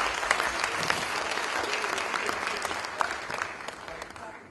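Dense, sustained applause from an audience filling a hall at a writers' festival event, many hands clapping close together with scattered louder claps, gradually tapering toward the end.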